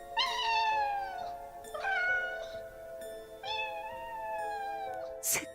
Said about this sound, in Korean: 새까맣게 어두운 폐차장 마당에서 고양이 울음소리가 들려왔습니다.